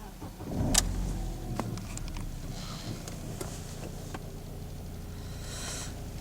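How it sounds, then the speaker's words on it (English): A BMW's engine cranks and catches with a short burst, then settles into a quiet, steady idle amid faint clicks and workshop ambience. "we're going to start the engine now"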